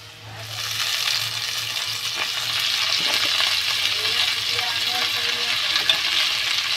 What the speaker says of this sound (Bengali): এখন আমি পালং শাকটা দিয়ে দেব।